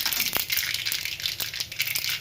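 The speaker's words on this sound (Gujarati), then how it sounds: "આવી રીતે રાઈને બરાબર ફૂટવા દેવાની" Rapid crackling and popping of mustard seeds spitting in hot oil, dense and irregular bursts, close up with no talking.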